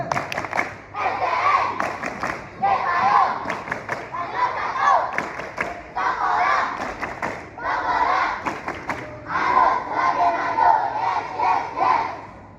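Schoolchildren at SD Cipayung perform the tepuk alma mater chant, loud unison shouting in rhythmic phrases with clapping and thumping beats between lines, continuing without a break.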